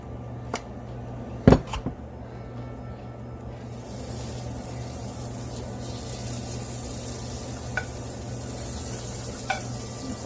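Butter sizzles steadily in a hot pan, a soft continuous hiss, with a couple of sharp clunks near the start.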